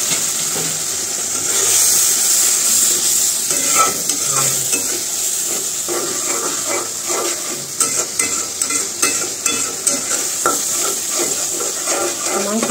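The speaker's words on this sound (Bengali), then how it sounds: "মাংসটা কষানো মানে মশলাটা কষানো হোক" Spiced masala with small pieces of meat fries in oil in a pan, a loud steady sizzle with rhythmic scraping strokes of a spatula stirring, close and without voices.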